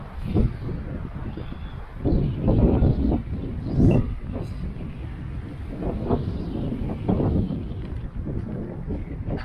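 Breezy wind blows over the microphone at a lakeside campground by Goldwater Lake, producing loud low rumbling gusts that rise and fall throughout.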